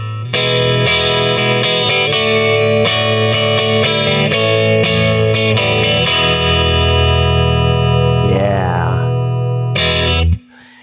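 Fender Vintera II Mustang electric guitar played through distortion with both pickups in the middle position: a loud, sustained chordal riff with crunchy overdrive, ringing chords and a brief slide near the end before cutting off.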